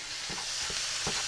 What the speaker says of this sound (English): And that sizzle that you hear, you want to hear that.